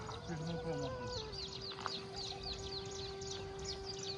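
Many birds chirp and twitter in quick, overlapping calls on a large hill, with a steady tonal hum and outdoor background noise underneath.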